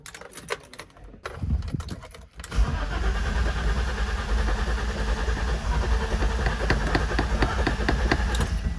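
A BMW E30, fresh from an inline fuel pump and filter replacement, cranks briefly and catches, then settles into a loud, steady close-up run with faint ticking over the rumble.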